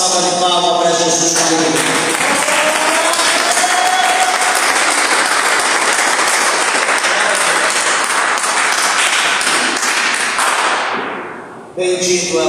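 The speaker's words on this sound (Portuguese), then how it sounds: "dê uma salva de palmas para Jesus" A church congregation at a Portuguese-language service claps loudly and continuously in dense, sustained applause that tapers off and fades out near the end.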